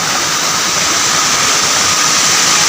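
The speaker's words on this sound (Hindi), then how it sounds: "वाव वाटरफॉल" Uski waterfall roars as a loud, steady broadband rush of falling water, unbroken and close throughout with no voices.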